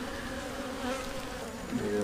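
A honey bee colony hums steadily during a hive removal, a dense and continuous drone of many wings that is fairly close and unbroken throughout, with no voices over it.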